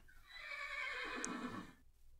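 A video game horse in ZooCraft lets out one long, quavering whinny that rises and trails off over about two seconds, fairly faint, with no talking.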